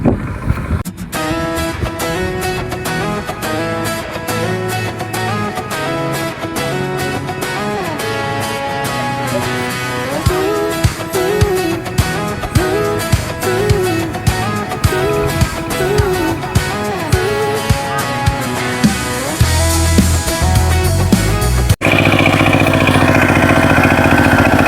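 A tractor engine chugs steadily and loudly in a rice paddy field in an Assam village, with a rhythmic mechanical knock and shifting revs over about twenty seconds, then cutting off abruptly near the end.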